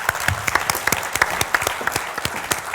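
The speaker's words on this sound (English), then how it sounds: "So let's have a round of applause for Arifa Nasim." Festival audience clapping at a London education event, close and fairly loud, with distinct individual hand claps standing out from a steady crowd applause that continues evenly throughout.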